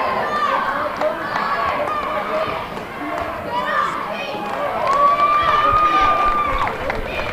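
Crowd noise fills a high school basketball gym at a boys' game, Chillicothe at East Clinton: steady chatter, shouts and rising cheers, with sneakers squeaking on the court and voices of commentators talking over it.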